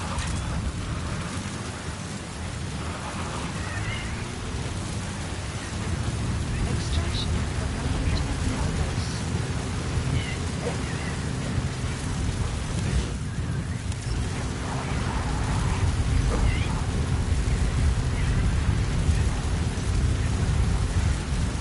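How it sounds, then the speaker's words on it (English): A rainstorm in the video game Metal Gear Solid Phantom Pain, a steady hiss of heavy rain with low rumbling thunder underneath that grows slightly louder over time. "There's a storm."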